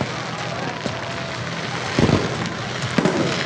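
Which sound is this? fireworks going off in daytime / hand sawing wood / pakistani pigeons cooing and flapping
fireworks going off in daytime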